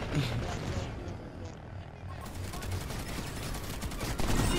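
Rapid turret gunfire in the video game Planetside 2 crackles in dense bursts, with a brief lull before it resumes steadily, while players talk over the shooting.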